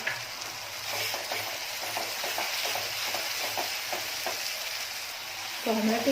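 Tomato paste frying with onion and turmeric in oil, a continuous close sizzle broken by repeated spoon scrapes and stirs, with a metallic knock at the end.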